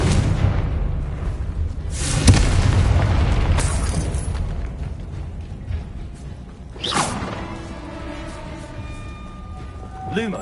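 Confringo blasting-curse explosions from the Hogwarts Legacy video game, played on PS5: several heavy booming blasts with whooshing tails, the biggest near the start and another later, over a continuous rumbling background.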